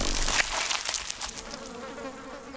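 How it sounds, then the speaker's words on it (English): Dung beetles fly in to fresh wildebeest dung on the savannah, a dense buzzing of many wingbeats that swell and fade as insects pass close by, gradually thinning toward the end. "It's an immense windfall for dung beetles, and they home in on it from all over the savannah."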